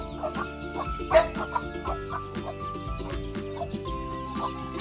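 Backyard chickens, including Texas chicks and a rooster, cluck and peep continuously nearby in a busy, overlapping chorus of short calls.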